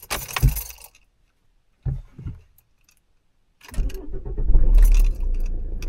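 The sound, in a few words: car keys jangling and car engine being turned on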